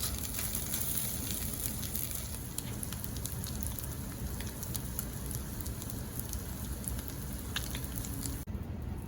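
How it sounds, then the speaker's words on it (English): Crab cakes searing in a frying pan on medium heat, a dense, even sizzle and crackle that holds steady and close throughout with no talking, then cuts off briefly near the end. "these crab cakes have been searing in the pan for about 3 minutes now"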